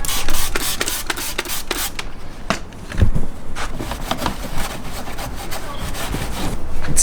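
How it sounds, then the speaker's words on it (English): Clay bar rubbed by hand over the bodywork of a BMW E34 M5, giving steady close scrubbing and rasping strokes in a repeated back-and-forth rhythm with no talk. "Just gonna hit it with a little bit of clay."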